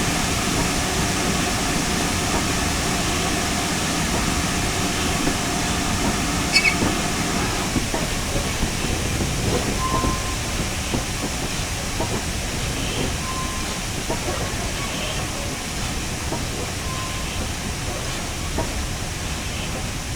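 A GWR 7800 class steam locomotive at Victory Works gives off a steady, close, broadband hiss of steam over a low mechanical rumble as it is eased into motion, with faint clanks scattered through the sound.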